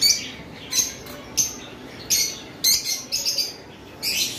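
Pet birds in a bird shop call out in short bursts of chirps and squawks, several birds overlapping in repeated outbursts at fairly close range with a little quiet between them.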